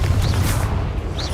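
Confringo blasting spell going off in Hogwarts Legacy: a brief, loud, booming burst with a dense low rumble and a couple of bright magical whooshes, heard alone without talk.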